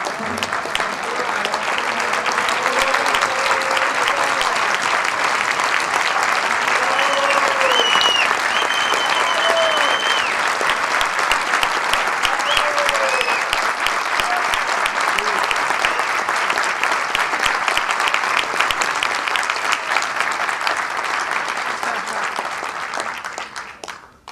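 A large standing crowd applauds at the closing ceremony of the Havana Film Festival in New York, a dense, steady roar of clapping that holds loud for over twenty seconds, with faint voices and whoops inside it, before fading at the end.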